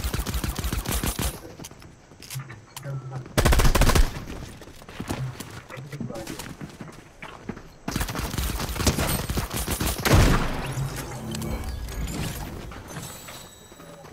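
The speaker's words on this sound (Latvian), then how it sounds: "Kas tur šāva?" Gunfire in a Fortnite duo match, with dense bursts of automatic shots and sharp impacts coming in waves, loud and close, while players talk over the action.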